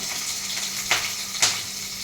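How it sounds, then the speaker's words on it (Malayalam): Green chilies dropped into hot oil for a Kerala toor dal curry give a steady, close sizzling hiss with two brief louder crackling bursts; no one speaks. "പച്ചമുളക് നല്ലതായിട്ട് വഴന്ന് കിട്ടണം. അതിനുവേണ്ടി നമ്മൾ പച്ചമുളക് ഇട്ട് കൊടുക്കുവാണ്."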